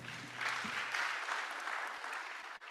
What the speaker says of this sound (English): A round of applause to my panel.